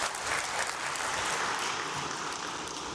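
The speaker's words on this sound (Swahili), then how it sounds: "Tujipigie makofi wanachama." Members of the Young Africans football club applauding at the club's general meeting: a dense, steady crowd clapping sustained throughout at moderate distance.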